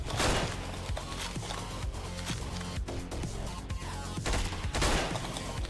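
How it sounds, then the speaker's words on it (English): Rapid gunfire in the top-down action game Hotline Miami 2: Midnight Animal, a dense string of loud shots over a pounding, continuous electronic soundtrack, with no talking. "And I have to actually shoot the gun as well."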